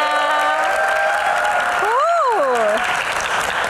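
A student audience in Jakarta applauds at a Q&A show, a dense, steady wash of clapping and crowd noise with a voice calling out above it partway through.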